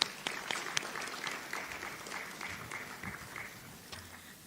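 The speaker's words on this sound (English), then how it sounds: "Let's give them a round of applause." An audience at an election security programme launch applauds the technical team, a steady wash of clapping from many hands that fades gradually over a few seconds.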